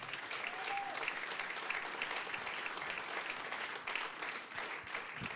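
A church congregation breaks into sustained applause during a sermon, a dense, even wash of many hands clapping at moderate distance throughout, with no voices standing out.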